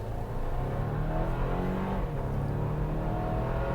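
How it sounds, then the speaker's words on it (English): An all-new 2025 Toyota 4Runner with its base engine, driving in Southern California: a steady, loud engine hum and road roar from inside the cabin, even and continuous with no talk. "we are driving the all-new 4Runner with two powertrains"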